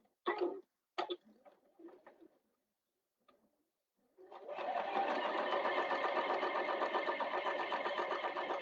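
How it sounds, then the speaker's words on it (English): A sewing machine top stitching along the folded edge of fabric runs in a steady, continuous whirring burst after a few short clicks and handling sounds, close and fairly loud. "I'm top stitching on the folded edge, not on the open end"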